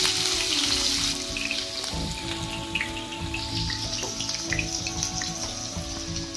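Chopped onion frying with cumin in peanut oil in a kadhai, a dense, steady crackling sizzle like rain, close and loud throughout, with clinks of utensils and a low tonal hum underneath.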